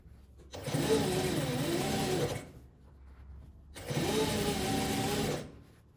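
A sewing machine stitches a fabric-scrap flower rug in two bursts, each a close, steady motor whir with rapid needle clatter lasting nearly two seconds, separated by a short quiet pause.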